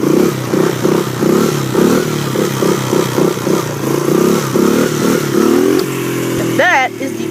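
A pit bike engine, ridden without a clutch, revs in a steady throbbing pulse as the rider rolls back and pulls a wheelie, close and loud, then drops off sharply near the end with a brief scrape.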